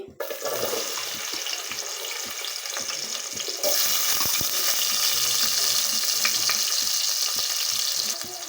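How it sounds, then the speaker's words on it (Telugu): Chopped onions drop into well-heated oil for a home-style chicken curry and fry with a steady, loud crackling sizzle that grows denser partway through, with occasional stirring scrapes in the pan. "ఫస్ట్ మనం కట్ చేసి పెట్టుకున్న ఆనియన్స్ అయితే వేసుకోవాలండి."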